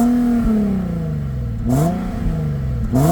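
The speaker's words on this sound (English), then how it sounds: "what we're going to do now is jump to some exhaust notes, and let's see if it sounds identical as it does in real life" A car engine in Gran Turismo 7 revs with a raspy exhaust note, loud and close, rising in pitch through repeated throttle blips and gear-like steps over a few seconds, with no talking.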